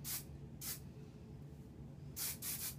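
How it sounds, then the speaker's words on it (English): Hairspray hisses from a can onto hair being styled for volume in a curly updo: four short, soft bursts, two spaced apart early and a quick pair near the end. "I'm gonna spray it with some hairspray just to give it some volume"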